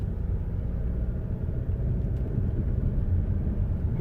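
Chevrolet Orlando with gearbox and clutch trouble driving in second gear, a steady low engine and road rumble heard from inside the cabin, constant and moderately loud with no talking.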